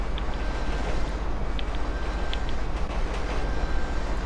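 A train running in the video game GTA V, a continuous heavy rumble and rattle of rolling wagons with faint high clicks, loud and steady throughout with no talk.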